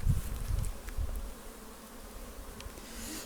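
Honeybees buzz inside a small nucleus hive in October, a close, steady low hum that is louder in the first second and then settles to a softer drone.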